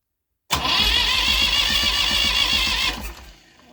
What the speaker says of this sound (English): That starter sounds a lot more healthier than the last one.